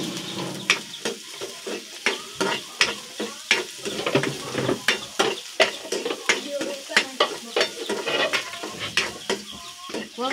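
Chopped garlic and onion sizzle in a hot pan while a utensil scrapes and stirs in a steady rhythm of repeated clacks over the constant frying hiss, close up.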